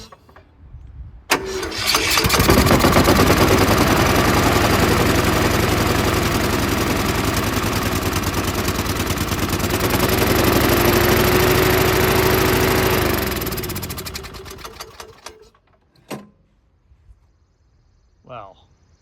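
A Cub Cadet lawn tractor, left sitting since 2019 and once caught fire, cranks and fires up on choke, then runs loudly and steadily for around twelve seconds before shutting down, with a few clunks afterward.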